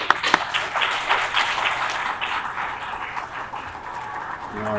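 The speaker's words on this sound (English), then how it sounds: "for the students to applaud your efforts in your great parenting" Audience applauding parents at a school scholars night, a dense, steady wash of clapping at moderate level that continues throughout, with a few sharper individual claps standing out near the start.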